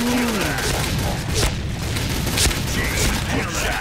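Sniper rifle shots in the online shooter Point Blank, two sharp cracks standing out over a loud, dense wash of continuous game noise.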